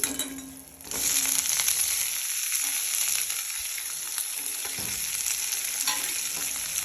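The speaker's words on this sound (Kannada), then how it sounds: "ಈಗ ಆದ್ಮೇಲೆ ನಾನು ಟೊಂಡೆಕರಿ ಹಾಕ್ತಾಯಿದೀನಿ ಚಿಕ್ಕ ಚಿಕ್ಕಂತಾ ಟೊಂಡೆಕರಿ" Small pieces of ivy gourd (tondekai) drop into a hot oiled pan for chutney and start a loud, steady sizzle. Occasional stirring scrapes and light clinks sound over the frying, with no talking.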